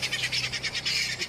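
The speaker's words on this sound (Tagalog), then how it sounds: "Ang taas na lumipad oh." A flock of birds takes off with a rapid flutter of wingbeats, a quick pulsing flapping over about a second, fairly close and alone without talk.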